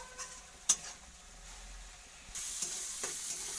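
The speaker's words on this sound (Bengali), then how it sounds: "সব দিয়ে এটা ভালোভাবে কষতে থাকবো। যতক্ষণ নাকি কাঁচা গন্ধটা যায় ততক্ষণ অবধি কষতে থাকবো।" Spice paste being fried and stirred in a kadai for a Bengali dish, a soft sizzle with an occasional spoon clack, swelling into a louder, steady hiss in the second half.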